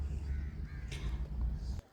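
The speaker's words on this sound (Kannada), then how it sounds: "ಮೇಲ್ಗಡೆ ಪಕ್ಷಿಗಳು" Crows cawing above the river at Sringeri, a few harsh calls rising over a steady low outdoor rumble before the sound cuts off abruptly.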